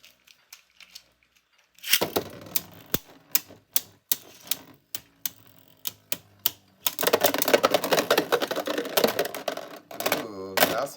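Beyblade spinning tops battle in a stadium after launch, giving sharp clacking impacts at an irregular rhythm that build into a dense, fast rattle of scraping and collisions, loud and close.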